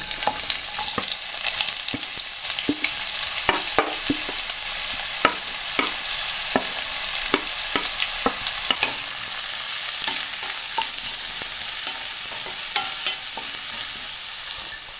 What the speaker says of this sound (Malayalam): ചൂടായ എണ്ണയിലേക്ക് സവാള ഇട്ട് കൊടുക്കാം.